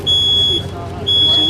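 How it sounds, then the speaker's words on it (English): An ionization smoke detector sounds its alarm in a demonstration trailer during a fire open house: two loud, piercing high-pitched beeps separated by a short gap. "It senses a change of the ions in the atmosphere and it sends it into alarm."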